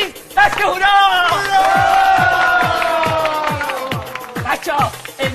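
A crowd of children cheers and claps steadily, rhythmic hand claps under bright, sustained shouting voices and singing, loud and close throughout.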